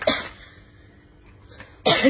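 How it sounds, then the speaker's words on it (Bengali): Coughing after eating tamarind: a sharp cough at the start, a faint one in the middle, and another loud burst at the end, close to the microphone. "কাশিও হচ্ছে এই খাওয়ার জন্য"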